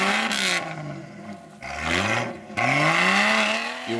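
An off-road vehicle on a dirt course, Toyota or Jeep, revs hard in repeated surges whose pitch rises and falls, with harsh scraping and clattering mixed in, close and loud.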